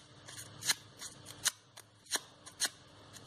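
Scissors scrape along a crepe paper strip to curl it: a quick series of about six sharp, close, crisp swishes and snips at an uneven rhythm, with no talking.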